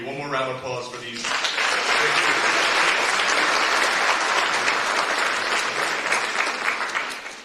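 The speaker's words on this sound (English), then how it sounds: "One more round of applause for these." Sustained applause from an audience fills a school scholarship and awards night, a steady dense wash of clapping from many hands that holds loud throughout after a brief softer start.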